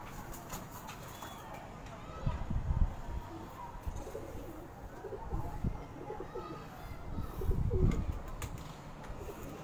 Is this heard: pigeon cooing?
yes